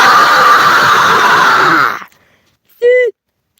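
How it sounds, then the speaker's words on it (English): A quiet, relaxed human scream holds steady and breathy for about two seconds and fades out. After a short silence, a brief tonal vocal sound follows. "that scream was way quieter and more calm and relaxed"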